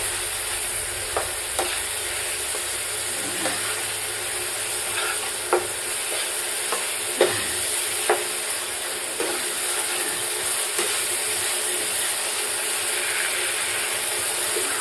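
Spice paste for a fish curry stir-fried in a pan, a constant sizzle with scattered scraping clicks of the spatula stirring at irregular intervals.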